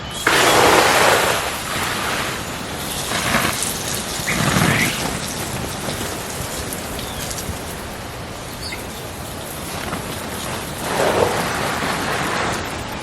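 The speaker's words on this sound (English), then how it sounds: "So I'm going to go ahead and give the greenhouse good water real quick before we get started planting." Water sprayed from a hose over a small DIY cattle-panel greenhouse, a steady broad hiss and patter on plastic and soil with several louder surges as the spray shifts, close and continuous.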